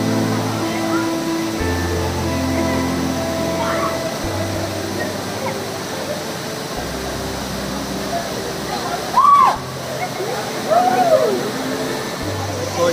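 Water pours steadily from the high drop of Vibhooti waterfall in Karnataka, a constant roaring wash that runs the whole time, with a few brief voices over it.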